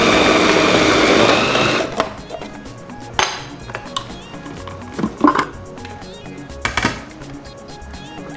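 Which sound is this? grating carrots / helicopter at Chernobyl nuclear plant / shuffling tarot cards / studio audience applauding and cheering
grating carrots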